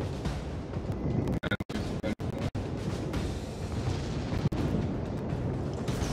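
Naval gunfire and citadel hits in the World of Warships video game, a loud continuous roar of booming impacts with several sharp cut-off blasts in quick succession, no talk.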